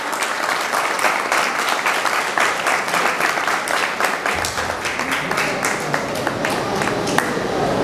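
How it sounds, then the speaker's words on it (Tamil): Sustained audience applause at a graduation address, dense steady clapping filling the whole stretch from a large crowd, loud and continuous with no pause. "அவருக்கு ஒரு ரவுண்ட் அப்ளாஸ் கொடுங்க"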